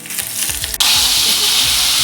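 Mustard seeds, dried red chilli, garlic and curry leaves hit hot oil for a bottle gourd sambar tempering, bursting into a loud, steady, close sizzle after a brief quieter stretch and holding until it cuts off.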